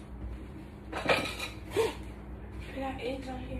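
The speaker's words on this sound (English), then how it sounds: "Time to wash dishes." Dishes being washed in a home kitchen: a few sharp clinks of plates and cutlery ring out among quieter clatter, with a voice talking in the background.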